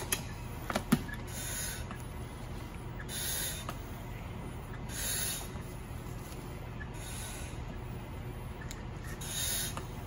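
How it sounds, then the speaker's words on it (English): Air from a tank on a firefighter's back hisses into a breathing mask in short, regular bursts, each lasting about half a second, repeating roughly every two seconds against a quiet background. "That sound is the oxygen coming into the mask so he can breathe from the tank on his back."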